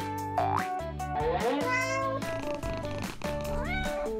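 A cartoon cat meows repeatedly in bending, sliding tones, with springy boing-like inflections, loud and close, over a musical background and without speech.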